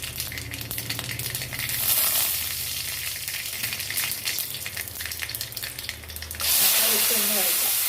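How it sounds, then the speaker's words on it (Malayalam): Tomatoes sauté in a pan for a white chickpea curry, giving a steady close sizzle with scraping stirs throughout and a brighter burst of frying hiss near the end. "ഒന്ന് വഴറ്റാം."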